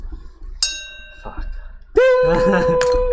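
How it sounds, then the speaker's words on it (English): A monk bell strikes once with a bright, ringing tone that hangs in the air, then a second louder metallic clang sounds and sustains to the end, while people talk faintly underneath. "It's the monk bell."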